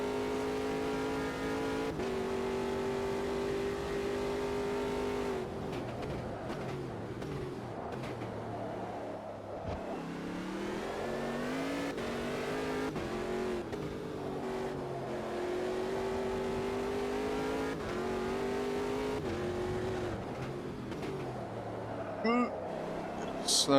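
A Ginetta G58 P1 prototype race car in a racing video game at the Nürburgring roars under hard acceleration. Its loud, continuous engine whine climbs and drops through the gears while a voice talks over it.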